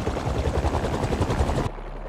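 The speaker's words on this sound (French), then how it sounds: "Des pales d'hélicoptère, c'est ça." Rapid, heavy pulsing thump of helicopter rotor blades in Spider-Man 2, loud and close, cutting off abruptly near the end.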